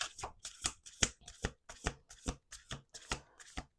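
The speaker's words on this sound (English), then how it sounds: "Let's do 2 more shuffles." Playing cards riffle-shuffled over and over on a tabletop, a quick run of crisp, ripping bursts in a steady rhythm, each a fraction of a second long, close and clear with no talking.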